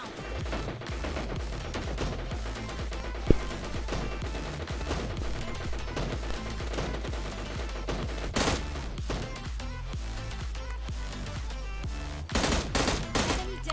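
Rapid gunfire in the video game PUBG Lite, dense bursts of shots and automatic fire layered over continuous game sound, loud and sustained with sharp peaks throughout.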